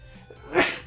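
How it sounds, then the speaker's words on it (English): A single short sneeze from a person with a cold, sharp and close, rising quickly after a quiet breath. "I've been sneezing like crazy the last few days."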